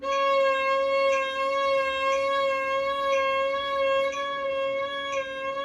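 A violin or viola practises vibrato in triplets on a steady bowed note, its pitch rocking evenly and plainly, with regular pulses marking the beats.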